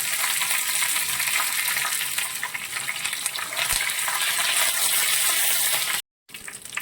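Curry leaves and dried red chilies crackle in hot oil for an Onam lime pickle, a dense continuous sizzling hiss heard close up with no voices.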